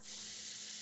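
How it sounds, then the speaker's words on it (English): Water running from a tap, picked up over a player's microphone during an online tabletop session: a steady, fairly faint broadband hiss that holds evenly throughout with no pauses. "that totally sounds like water running"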